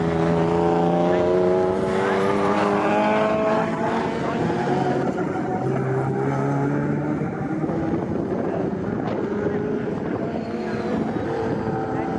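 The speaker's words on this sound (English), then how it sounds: "There's a battle because Mark Fowler's E36 is just up ahead of Ross Craig's Honda Civic." Touring race cars, a BMW E36 and a Honda Civic, circulating at Snetterton, their engines droning steadily at a moderate distance with shifting pitch as they pass, under commentary.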